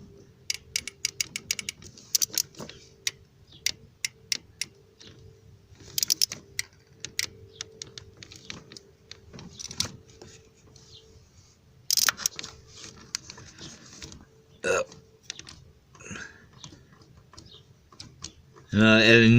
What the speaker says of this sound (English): You hear it squeaking in there.